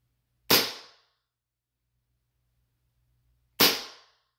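An M9 replica pistol fires two sharp, loud cracks through a chronograph, about three seconds apart, each with a quick decaying tail and near silence between them.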